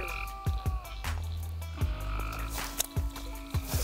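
Frogs croak repeatedly near a pond bank during a night of frog gigging, as loud, close, throaty pulses in uneven bursts over a steady low drone, with no voices.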